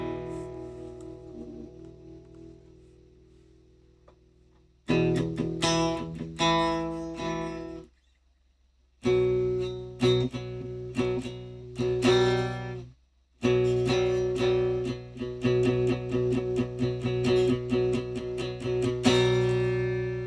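A Fender Stratocaster electric guitar rings through an amp with the gain turned up, played in bursts of strummed chords and notes separated by short silences, loud and close with no talking.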